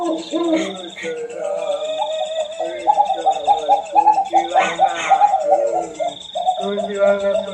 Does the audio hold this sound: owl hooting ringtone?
yes